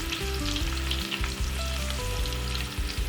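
A bay leaf hits hot oil in a pan while cooking new-potato aloo dum, giving a loud, steady crackling sizzle that runs unbroken for the whole moment, with faint tonal hum beneath and no voices.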